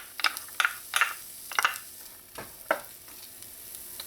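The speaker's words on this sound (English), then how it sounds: "add a little bit of oil in there and let that oil heat up. Add your onions." Onions dropped into hot oil in a pot on medium heat give a faint, low sizzle, broken by several sharp stirring clinks and scrapes close by, with no talk.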